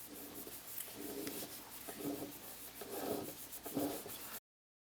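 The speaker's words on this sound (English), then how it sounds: "I'll just wipe this on with a rag." A rag wipes lacquer onto a turned bog oak pen: soft, close rubbing strokes in a loose rhythm of about four passes, faint and heard alone before ending abruptly.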